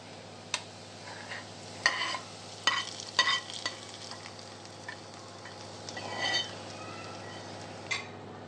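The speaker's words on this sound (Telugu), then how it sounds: "ఇదిగోండి తాలింపు బాగా వేగిపోయింది మనం ఇప్పుడు పప్పులో కలుపుకుందాం" A spoon scrapes and clinks against a pot while a fried tempering is stirred into spinach dal, oil sizzling gently underneath, with a few sharp metallic knocks spaced irregularly.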